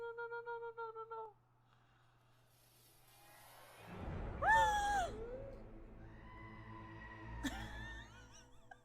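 A shrill, wavering scream from the Murder by Numbers video game rises after a few soft musical tones, loud and piercing for about a second, then fades into lingering game sounds and a later sharp accent.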